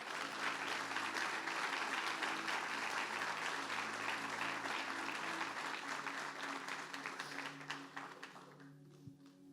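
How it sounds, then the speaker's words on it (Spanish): A church congregation gives sustained applause during a Spanish-language service, dense and even clapping that holds for several seconds, then thins and fades toward the end with a low hum underneath. "Renová ese aplauso para Dios"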